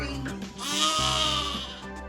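A young bottle-fed lamb on a farm lets out one long, loud, harsh scream of a bleat, close by and sustained for most of two seconds.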